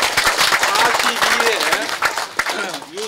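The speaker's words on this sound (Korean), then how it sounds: "많은 박수를 보내주시기 바랍니다." Applause from members at a clan association's annual general meeting, a short burst of clapping mixed with voices and chatter that thins out toward the end.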